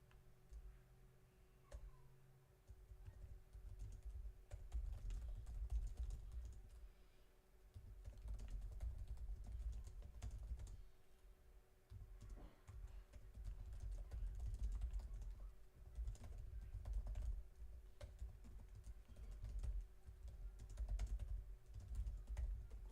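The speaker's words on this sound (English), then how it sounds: "how bad is the Melanie keyboard pounding from that distance on the mic" Mechanical keyboard typing picked up by a microphone placed some distance away, steady bursts of muffled key pounding continuing throughout with brief pauses, fairly quiet with a low rumble underneath.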